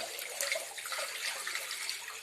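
Water pours and splashes steadily through a strainer as sago is washed in Papua New Guinea, a close continuous hissing trickle with small uneven gurgles and no voices.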